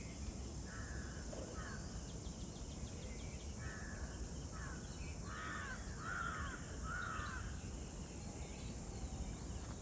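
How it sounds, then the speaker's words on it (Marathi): Birds give a short run of harsh, cawing calls at moderate distance near water at a scenic spot, spaced in a loose series over steady insect and ambient hiss. "हे बघा पक्षी हवेत उडतात बघा."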